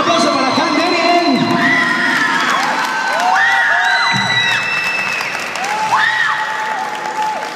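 A festival concert crowd cheers, whoops and applauds loudly for a band member of a tribute act, with high shouts and whistles rising over continuous clapping.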